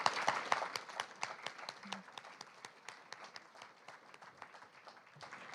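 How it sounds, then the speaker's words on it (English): A small audience at a poetry reading claps for three poets, a faint, thinning round of distinct individual claps that tapers off over several seconds. "let's have one more round of applause for all three of our poets"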